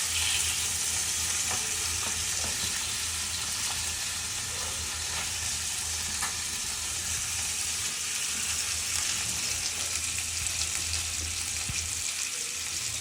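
Food frying in a pan in a home kitchen, a continuous close-up sizzle with a steady hiss and faint crackles that runs unbroken throughout.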